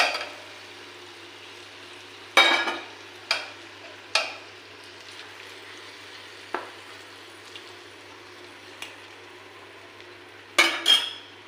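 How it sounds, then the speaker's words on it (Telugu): Fish pieces dropped into hot oil with chili masala fry quietly at a low background hiss, broken by several sharp clatters and scrapes of a utensil against the pan, with no talking. "ఇప్పుడు చేప ముక్కలు కూడా వేసేస్తున్నానండి ఇందులో."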